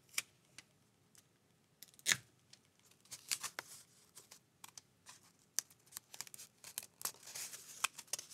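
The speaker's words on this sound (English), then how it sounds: "And then I'm going to take a little piece of tape." A small piece of tape is torn off a roll while a paper flag is wrapped around a tube, giving several short, crisp tearing and crackling bursts close by with quiet pauses between them and no talking.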